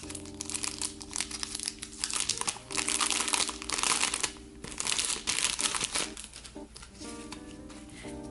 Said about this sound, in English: So let's go ahead and open this up.